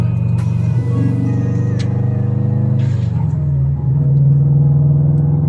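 A Subaru WRX engine drones loudly from inside the cabin while driving in slow traffic, a steady low rumble with shifting pitch as the car eases along and gently accelerates.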